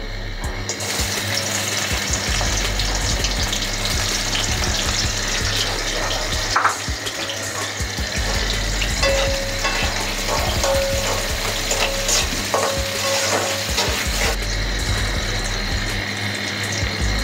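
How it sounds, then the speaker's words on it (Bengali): Chopped onion frying in soybean oil in a pan, a loud, steady crackling sizzle that runs continuously with faint clinks and scrapes over it, alone with no voices, for a Bengali prawn and vegetable-stem curry. "দিয়ে দিচ্ছি অয়েল, দিয়ে দিচ্ছি পেঁয়াজ কুচি"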